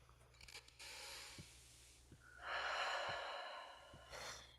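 A group on a Zoom call takes one deep breath together: a long, soft inhale rises to a full breathy swell, then a gentle exhale fades out, heard quietly with no speech.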